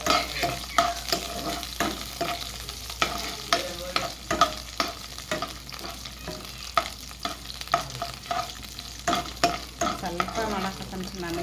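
Cashews and raisins frying in ghee in a pan, a constant close sizzle with rapid, repeated scraping and stirring knocks throughout, no talking.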